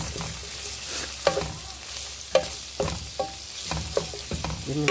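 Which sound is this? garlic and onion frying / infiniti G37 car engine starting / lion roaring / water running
garlic and onion frying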